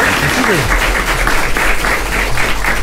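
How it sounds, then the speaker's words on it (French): Audience at a Niger robotics competition applauding steadily and loudly throughout, a dense sustained wash of clapping with a brief voice briefly audible near the start. "Vous pouvez l'applaudir s'il vous plaît"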